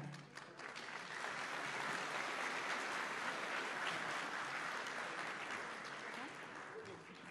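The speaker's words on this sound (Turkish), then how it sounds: "şu güzel tabloyu alkışlarımızla hiçbir şekilde yalnız bırakmayalım" A parliamentary audience in Turkey claps continuously, a dense and even spread of many hands that holds steady throughout and thins slightly near the end. Faint talk can be heard beneath it.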